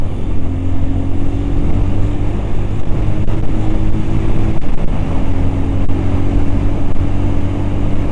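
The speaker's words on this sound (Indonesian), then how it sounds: "Ini mobil yang arah ke bawah cukup padat" Steady low rumble of several cars and engines moving downhill along a road through a protected forest between Kendal and Boja, continuous and fairly close with no talking.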